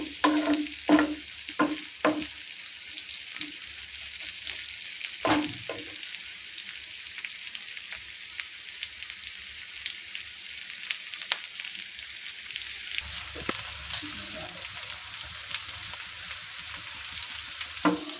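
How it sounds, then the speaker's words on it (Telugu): Okra pieces frying in a pan for okra chutney, a steady close sizzle with a few sharp stirring scrapes near the start and another toward the end, no voices. "ఇది బాగా వేగాలండి మెండకాయ ముక్కలు బాగా వేగాలి"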